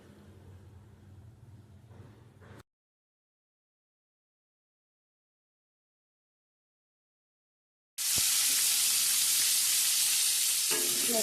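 Prawns fry lightly in hot oil in a kadai. A low sizzle is cut off by a long silent gap, then a loud, close, steady frying hiss returns. No voices are heard.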